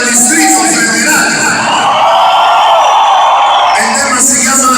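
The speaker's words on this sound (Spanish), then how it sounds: "Que griten la banda del Distrito Federal." Concert crowd at a Sonido Condor Sonifest 2015 show in Chicago, shouting, whooping and cheering loudly and continuously for the whole stretch, a dense roar of many voices.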